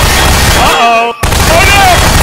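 Loud, booming gunshots in Garry's Mod Prop Hunt, with heavy blasts filling most of the moment and a brief drop near the middle as voices talk over them.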